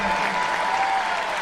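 Stadium crowd at the Florida State Garnet versus Gold annual spring football game rises and cheers in a loud, steady roar of applause and voices, continuous and dense throughout with no pauses.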